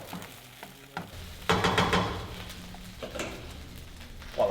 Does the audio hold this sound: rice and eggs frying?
yes